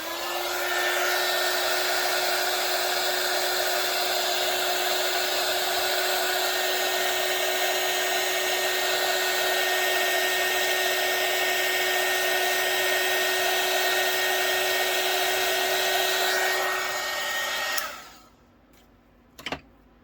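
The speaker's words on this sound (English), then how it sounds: "now we need the handy dandy hot air gun" A hot air gun blows over a UV resin mold with a steady, loud whooshing hum for a long stretch, then switches off, leaving quiet with a couple of small clicks.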